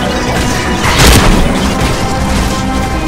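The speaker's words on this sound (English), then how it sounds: "Come on, it's gonna blow up. I fire it." Particle cannon fire in the Battlefront 2 video game, Mass Effect Unification mod, bursting into a loud, heavy boom near the midpoint over a steady dense rumble of game noise.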